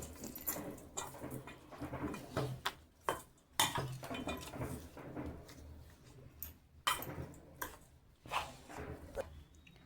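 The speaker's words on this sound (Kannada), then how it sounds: "ಇದನ್ನು ಕಲಸಿಟ್ಟಿರೋಂಥ ಅಳ್ಳಿಟ್ಟಿಗೆ ಒಗ್ಗರಣೆ ಹಾಕ್ಕೊಂಡು ಚೆನ್ನಾಗಿ ಕಲಿಸ್ಕೋಬೇಕು" Metal spoon scraping and clattering against a pan while tempering is stirred into mixed allittu, irregular bursts of clinks and scrapes, close and fairly quiet with no talk.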